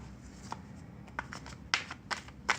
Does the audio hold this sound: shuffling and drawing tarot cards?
yes